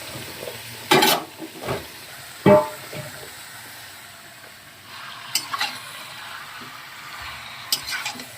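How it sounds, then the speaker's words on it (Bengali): Chicken sizzles softly in a pan with fried onions, broken by a few loud scrapes and clanks of a spatula stirring it, close by with no talking. "আমি এইভাবে ভালো করে মাংসটাকে কষিয়ে নেব"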